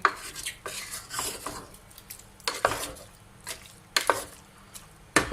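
Green capsicum being stirred into chicken curry in a pot, with sharp clanks and scrapes of a spoon against metal in uneven bursts under a quiet simmer.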